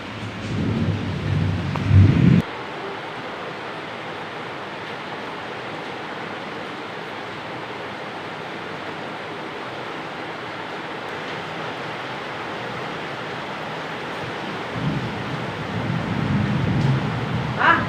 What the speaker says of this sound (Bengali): বলো হেভি বৃষ্টি হচ্ছে